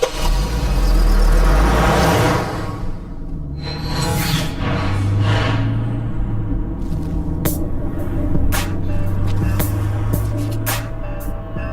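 A car being driven gives a steady, loud engine drone and road rumble from inside the cabin, with a brief surge early on and scattered clicks and rustles, continuing evenly.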